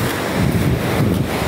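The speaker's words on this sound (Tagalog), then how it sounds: "Dagat." Sea waves wash in a steady, loud roar along a shore near 7UP Suksukan, Mati City, with wind buffeting the microphone throughout and no voices.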